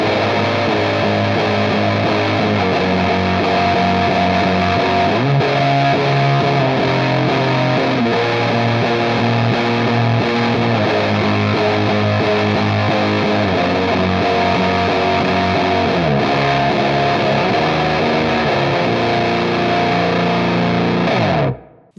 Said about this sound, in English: I will of course push it into an extreme fuzz tone.